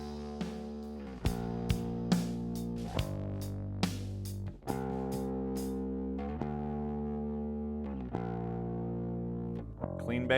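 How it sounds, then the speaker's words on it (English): A bass guitar run through a distortion effect in an analog mixing setup plays sustained, gritty notes, each pluck ringing out alone with a thick, buzzing tone. "Just the distortion."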